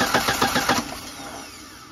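An old car's starter cranks the engine during an ignition check with no spark, a rapid pulsing whirr of about six beats that then fades into a low steady hum.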